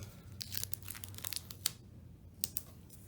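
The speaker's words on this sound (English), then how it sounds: "We're going to grab a piece of tape" Tape being pulled and torn off during an adult craft session with string knots, heard as a few sharp crinkly ripping bursts spread across a few seconds over a low room hum, with no talking.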